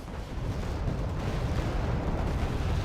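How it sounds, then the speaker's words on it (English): An M270 rocket artillery launcher firing in the Wargame Red Dragon strategy game gives a continuous deep rumbling roar of launches and blasts, dense and loud throughout with no clear talking. "Here's the M270 firing off."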